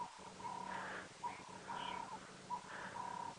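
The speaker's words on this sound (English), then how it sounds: "the turtle doves are calling now" Turtle doves calling on an early-morning safari drive, a faint repeated purring coo in short phrases about once a second, distant and soft against quiet background hiss.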